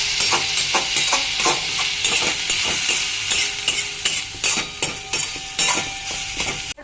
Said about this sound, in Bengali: এই মশলাটা দিয়ে তারপরে ভালো করে আবার কিছুক্ষণ নাড়িয়ে নেব